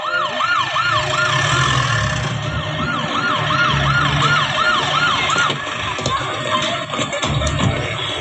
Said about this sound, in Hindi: सर ट्रैफिक में एम्बुलेंस फंसी है